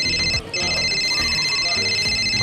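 A phone rings indoors with a steady, bright electronic tone that runs almost continuously, fairly loud, with a brief dip before resuming over faint background noise.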